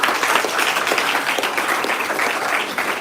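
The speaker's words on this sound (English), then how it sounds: "let's give him a big round of applause" A crowd of students and audience members applauds a young British volunteer who helped fight malaria in Sierra Leone, a dense burst of clapping that stays loud and steady throughout.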